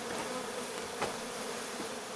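Honey bees buzz in a steady, moderately quiet drone during the rescue of a giant wild bee nest at a château, with one brief louder crackle midway and no talking.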